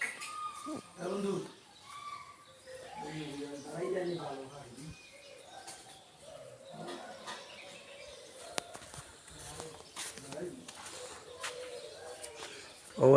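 Birds at a zoo in Sreemangal call with soft cooing and chirps, faint and intermittent beneath people talking nearby.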